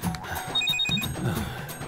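A telephone bell rings in a repeating electronic trill with short bursts under a steady background murmur indoors at home, fairly near and moderately loud.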